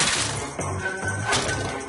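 A mobile phone is smashed in a French cartoon, several loud crashing impacts in quick succession, close and sharp, with brief gaps between the hits.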